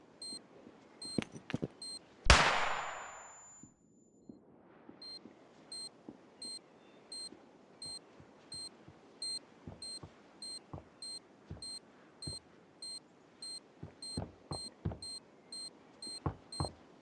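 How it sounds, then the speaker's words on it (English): A planted bomb in a round of a tactical video game shooter beeps in steady, repeated high pips over quiet footsteps and clicks, with one loud burst near the start. "Bomb has been planted."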